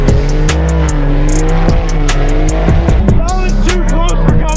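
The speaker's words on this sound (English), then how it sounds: "Let's go watch the burnouts." A truck does a burnout at a rowdy truck show in Tennessee, its engine revving hard and loud with repeated throttle blips over sustained tire squeal, close by and continuous.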